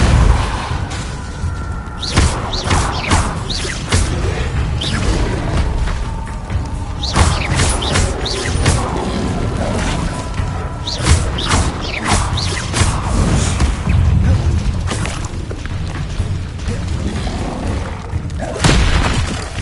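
Depulso spell blasts in Hogwarts Legacy, a run of loud booming impacts and whooshes with crashing debris, repeating irregularly in a busy combat mix.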